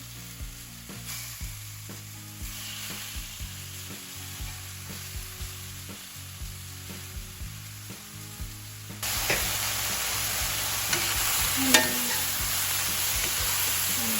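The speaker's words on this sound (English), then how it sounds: "our oil is more than hot. Go ahead and get our beef in there." Beef steak bites sear in very hot oil in a pan, a steady sizzle with scattered pops and stirring clicks that swells suddenly into a louder, fuller frying hiss partway through.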